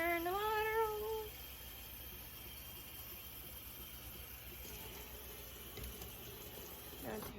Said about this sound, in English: Turn the water on, turn the water on, turn the water on.